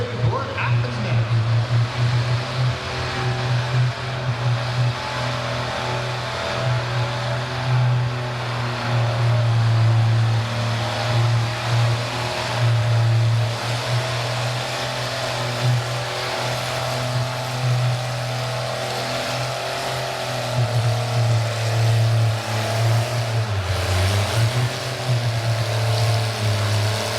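A classic pulling tractor roars under load at a classic tractor bracket pull, its engine holding a loud, steady, deep drone for nearly half a minute with only slight rises and dips in pitch.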